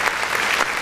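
Dense applause from a group fills the whole short moment at a steady loud level, with no talking.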